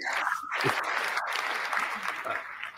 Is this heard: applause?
yes